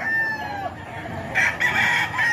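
A rooster owned by a man from Tondo, Manila crows loudly and close, with a long call near the start and further clucks and crowing bursts later.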